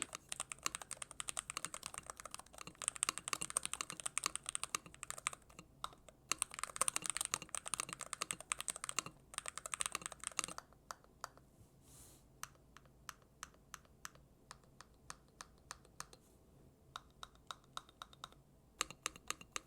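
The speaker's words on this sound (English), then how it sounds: "Let's do a typing test." Typing on an Epomaker HE65 V2 TMR magnetic keyboard, with dense bursts of quick clicky keystrokes that thin into sparser, quieter taps partway through, close and alone.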